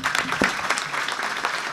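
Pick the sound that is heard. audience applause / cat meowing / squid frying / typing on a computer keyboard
audience applause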